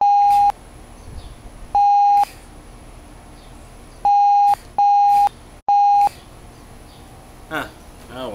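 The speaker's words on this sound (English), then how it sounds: "That gets beeped?" Repeated censorship bleeps cut into a news story, five steady electronic tones each lasting about half a second and spaced irregularly, loud and clean, with spoken narration heard between them.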